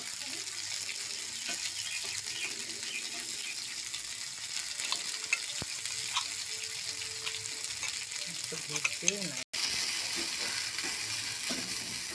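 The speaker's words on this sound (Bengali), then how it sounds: "এবার মশলাগুলো আমি ভেজে নেব।" Ground spice paste frying in a pan for a stuffed bitter gourd dish, a steady close sizzle with occasional stirring scrapes and a brief break near the end.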